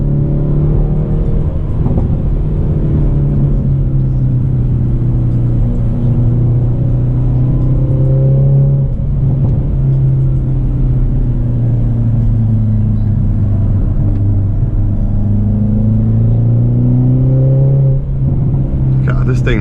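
Hyundai Veloster N driven hard up the winding NC-226A mountain road. A loud, close engine drone runs continuously, its pitch swelling and dipping with throttle and gear changes, over steady road rumble.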